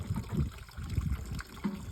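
Fresh grape must trickles and drips from a grape press during pekmez making, a soft, uneven liquid patter with small gurgling spurts, faint and close, without talking.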